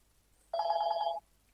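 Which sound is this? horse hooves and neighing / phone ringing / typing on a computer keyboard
phone ringing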